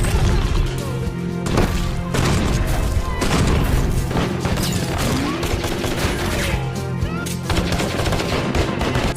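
Rapid gunfire from a shooting scene in The Mechanic film, dense repeated loud shots and booms in quick bursts, with a voice speaking over the action.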